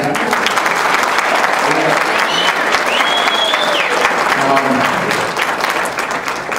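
Audience applause at a gala fills the room with loud, sustained clapping and some crowd noise, while faint voices and whoops rise briefly over it before it tapers slightly at the end.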